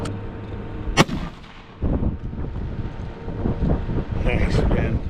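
A rifle shot fired down range during a .223 versus 22 ARC comparison, with a sharp crack near the start followed by wind buffeting and rumbling outdoor noise; people talk quietly around it.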